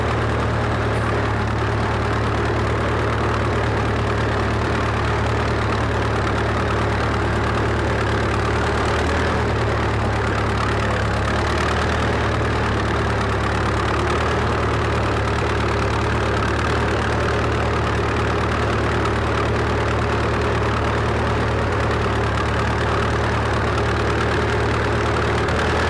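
A 1938 Farmall F20 tractor labors up a hill in third gear, its engine a loud, steady, rough drone that continues unbroken throughout.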